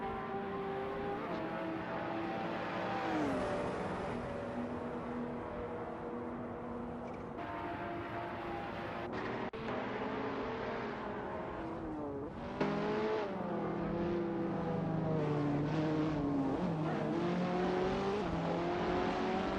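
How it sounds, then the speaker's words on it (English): AI-driven race cars lapping Road America in a racing simulator game, a continuous loud engine drone with shifting revs, gear changes and overlapping cars passing close, no talk. "We just saw some exciting action in the racing simulator as the R-controlled cars battled it out on the track."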